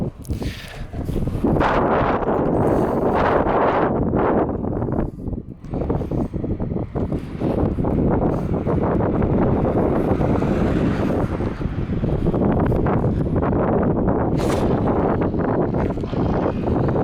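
Strong wind buffets the microphone during a bicycle ride in Japan, a loud, continuous roaring rumble that surges and dips briefly without letting up.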